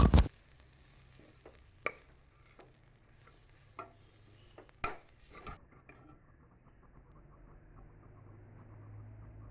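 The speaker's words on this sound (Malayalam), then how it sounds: "ഇത്രയും ചേർത്ത് പച്ചമണം മാറുന്നതുവരെ കരിയാതെ നന്നായിട്ട് ഇളക്കുക." Garam masala and turmeric powder being stirred in a pan, a few close scrapes and knocks of the spoon over a faint, steady sizzle, with the sounds thinning out after a few seconds and no voices.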